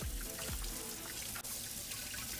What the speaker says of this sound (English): So just running them under boiling water or like hot warm water helps a lot